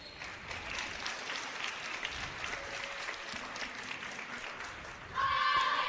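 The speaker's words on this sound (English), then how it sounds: "Please give all those supporters, fighters, a round of applause." Sustained crowd applause fills a volleyball game gym, steady and dense throughout, swelling louder near the end with a few whistles or cheers.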